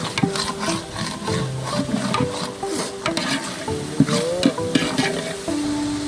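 Fresh mint is stirred into a sizzling pan for egg biryani, with a spoon scraping and rubbing against the pan over a steady frying hiss. The stirring strokes come in an uneven rhythm, close and clear.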